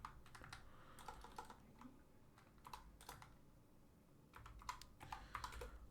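A command being typed on a computer keyboard, with faint, quick clusters of key clicks in irregular bursts and short pauses, and no voice.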